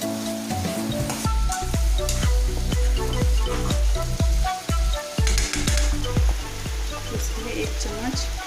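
Gravy for fish korma sizzles and fries in leftover oil, a loud, close hiss broken by repeated clattering strokes of a spoon stirring against the pan.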